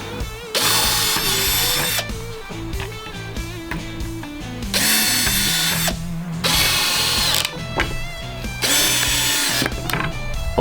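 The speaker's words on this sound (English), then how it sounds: "So we'll screw on the rest of that and lock it all up." Power drill driving bolts while a seat is fitted on a Triumph Tigress scooter under restoration, in loud repeated bursts of whirring that start and stop across the clip.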